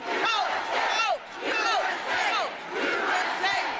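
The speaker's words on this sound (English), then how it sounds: "the attending crowd countered with cheers of USA" At a Democratic National Convention address by Walz, a large crowd chants USA, countering pro-Palestinian protesters, in loud rhythmic surges that repeat about every second with brief dips between chants.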